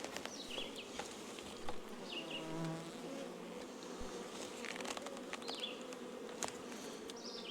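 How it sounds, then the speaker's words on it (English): Several honeybees buzz close by, a steady droning hum with individual bees rising and fading as they pass near. "You can see the bees come right up through the center of that feeder"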